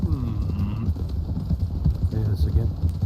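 Several horses trot together in Red Dead Redemption 2, their hooves clip-clopping in a steady, close rhythm while people talk over them.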